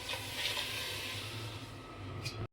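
Water pouring steadily into a rice cooker pot holding rice while bisibele bath is prepared, a continuous close splashing hiss that runs for a couple of seconds and then stops abruptly.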